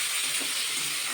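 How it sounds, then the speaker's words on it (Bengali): Spices for a small fish curry sautéing in a pan, giving a steady close sizzle and hiss that runs without a break for the whole short stretch, with no voices. "তো এবার আমি একটু কষিয়ে নেব।"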